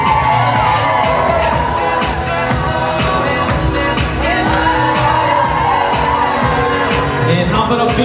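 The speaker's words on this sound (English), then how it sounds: "how about a big round of applause for Nicole Develing, escorted by Steve Cockn" Wedding guests cheer, whoop and applaud as the bridal party is introduced and walks in, a loud, continuous crowd roar with shouts over music throughout.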